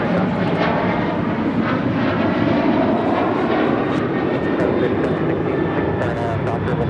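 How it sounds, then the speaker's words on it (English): A Delta Airlines Boeing 737-800 takes off from LAX with a steady, loud, broadband jet roar filling the whole stretch, while people talk faintly over it. "This is Delta Airlines 2382 taking off to Kansas City on a 737-800."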